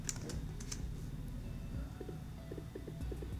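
Soft, steady clicking of keys on a computer keyboard, continuous and close, with a faint low hum in the background.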